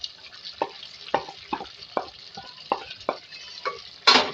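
Chicken, boiled potatoes, capsicum and fried onion stirred in a sizzling pan, a steady frying hiss under a series of about nine distinct scraping stirs, ending in a louder scrape.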